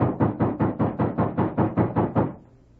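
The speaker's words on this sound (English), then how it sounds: "And then there was a loud knock on the door." A loud, close knock on a wooden door in an old-time radio drama: about ten heavy, evenly spaced raps in a steady rhythm, then the sound stops.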